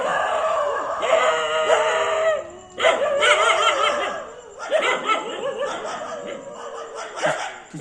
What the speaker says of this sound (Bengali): বাড়ির উপর খুব মস্তি করছে কুকুরগুলো